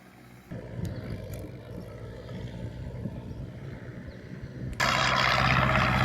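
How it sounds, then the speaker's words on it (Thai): A Ford 77 tractor plows a wet rice paddy, its diesel engine droning steadily nearby, then jumping to a louder, harsher roar near the end, with no talking. "สำหรับท่านที่มีรถไถใหญ่แบบอย่างนี้นะครับฟอร์ด"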